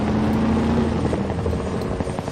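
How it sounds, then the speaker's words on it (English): A helicopter in the video game SCUM drones steadily and loudly throughout, a continuous rotor and engine roar with a low hum, heard alone. "sounds like a helicopter."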